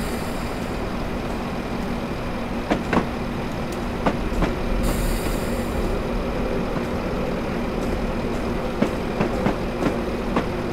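Train from Train Simulator 2018 running on the North Wales Coastal line from Llandudno to Crewe: a steady rumbling drone with periodic clicks of wheels over rail joints, continuous and even throughout.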